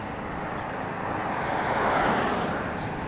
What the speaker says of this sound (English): Man, is it windy up here?